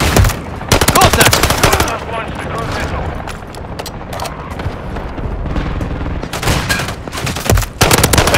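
Automatic rifle fire in Call of Duty: Modern Warfare, loud rapid bursts close by, broken by short pauses and scattered distant shots, with radio-style voices calling out between volleys.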